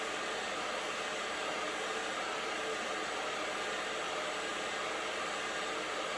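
A hair dryer blowing hot air through short hair being styled with a round brush for volume, a loud, even, continuous whoosh held close throughout.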